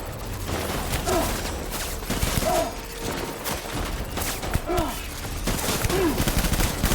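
Video game gunfire in Death Stranding, repeated bursts of shots over a busy, noisy game soundscape with occasional whistling tones, fairly loud and steady across the stretch.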